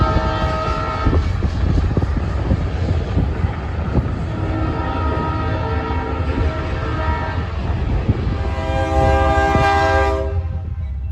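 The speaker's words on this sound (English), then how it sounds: "Finally, a train arrives on the third leg of the triangle." Southbound freight train from the Toledo area arriving at a rail junction in Fostoria, Ohio, its horn blaring in long sustained blasts over rumbling wheels and clattering cars, loud and near.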